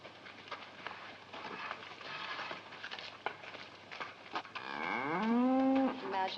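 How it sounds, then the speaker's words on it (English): A big cow moos once near the end, a loud, drawn-out low call rising out of a rustling, shuffling background. "look at this big cow"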